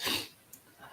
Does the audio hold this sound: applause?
no